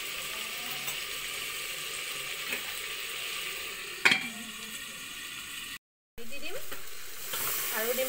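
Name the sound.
meat frying in a cooker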